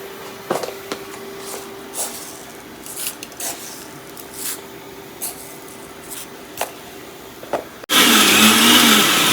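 A mixer grinder blends coconut with green mustard seeds for cucumber kichadi, a loud steady whirring roar that starts abruptly near the end after quiet kitchen noises and clicks.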